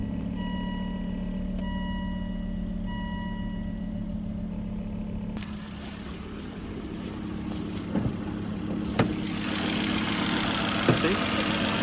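A high-mileage Volvo V70 II engine starts and settles into a steady idle with the check engine light on, a few electronic chimes early on and some faint clicks and movement nearby.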